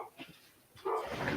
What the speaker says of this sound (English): My dog's all vicious when she thinks someone's at the door.